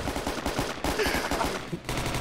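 Video game gunfire aimed at a drone: rapid bursts of shots crack loudly in quick succession, a sustained volley with brief gaps, no talking.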